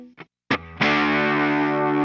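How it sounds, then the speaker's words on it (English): An electric guitar plays a distorted chord with an added third, preceded by a couple of brief muted plucks, then rings out loud and sustained with a full, saturated tone. "Much more full sounding with that third added to it"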